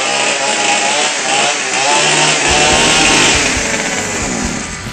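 A chainsaw runs loud and close, its high buzzing engine holding a steady pitch with a deeper rev joining partway through.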